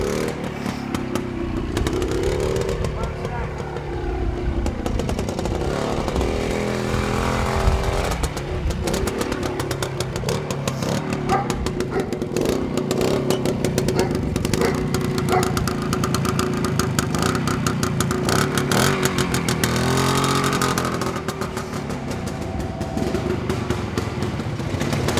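A 1966 Greeves 24TFS antique trial motorcycle idles steadily, its small single-cylinder engine putting out a close, even exhaust note with light knocking and slight rises in revs throughout, no voices present.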